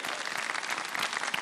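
A studio audience on a televised quiz competition applauds, a dense, steady wash of many hands clapping at close range, heard alone without talk.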